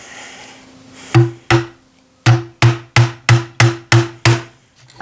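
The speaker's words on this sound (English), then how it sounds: "Let me take our hammer." A hammer taps pins into hull planking on a wooden model ship, the HMS Endeavour, nine sharp close strikes in a steady rhythm after a brief pause, with no talking.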